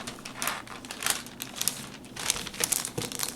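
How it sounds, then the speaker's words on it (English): Parchment paper and metallic foil handled for foiling on black paper, giving a close, steady crinkling and rustling with brief louder crackles throughout, no voices. "Then I have a piece of parchment here that I'm going to put it in."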